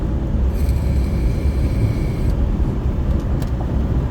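Wind and tire roar rush through an open car window while driving, a loud, constant low rumble with no breaks and no voices, a faint whine rising briefly near the start.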